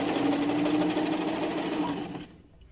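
A Singer 875 sewing machine stitches fabric as a steady, fast mechanical whir with rhythmic needle chatter, running loud and close before slowing and stopping near the end.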